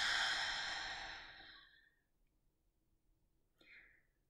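A long, soft exhale after a deep breath during a guided meditation fades out over about two seconds. A faint shorter breath follows near the end in a quiet room.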